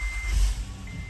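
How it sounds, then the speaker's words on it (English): A Honda Odyssey sounds a single steady electronic beep at the stop-start button, a clear tone lasting about a third of a second that returns briefly near the end, heard close over low engine-like rumble. "you'll hear a beep, and you'll notice this glows solid"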